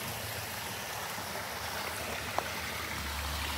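Water pours steadily from a koi pond waterfall into the pond, a constant close splashing rush that stays even throughout, with one faint brief knock.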